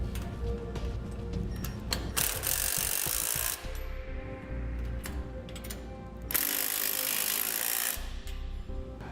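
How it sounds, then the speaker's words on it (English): Ratchet wrench with a 19mm socket tightening bolts on an A-frame utility trailer, giving steady rapid clicking with two louder bursts of ratcheting, close up and with no talk. "Now we can tighten up our bolts. Again, I'm just using a 19mm wrench and socket."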